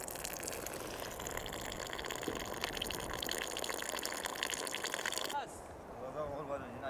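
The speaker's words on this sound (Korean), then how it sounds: "조심스레 돌려보니 물이 쏟아진다." Water gushes steadily from a turned tap at an oasis in Morocco, a continuous close splashing rush that shifts abruptly near the end.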